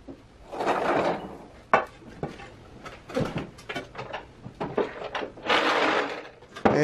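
A large drawer on the end of a workshop workbench slides and thumps in a run of short wooden knocks, rattles and rolling scrapes, close by, with a few louder bursts of sliding.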